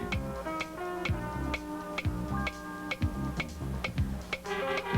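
A clock ticks through a game show countdown, sharp regular ticks repeating roughly every half second over a soft musical backing, with no voices.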